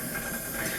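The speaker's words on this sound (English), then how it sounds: "run your tap" Water from a kitchen tap runs in a steady, continuous hissing stream, close and even, with no talking.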